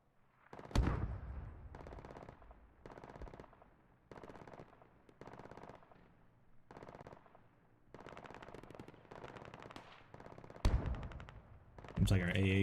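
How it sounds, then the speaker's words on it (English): Anti-aircraft guns firing in the Squad military simulation game Operation Deadlock, loud repeated sustained bursts of automatic fire with short pauses between, plus a few heavier blasts, with voices faintly underneath. "Seems like our AA guns are taking shots at Skinless and MI8."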